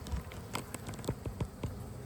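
Honeybees buzzing inside an opened, crowded hive during an emergency inspection for a possible swarm, a soft steady hum close by with scattered light taps and rustles, no talking.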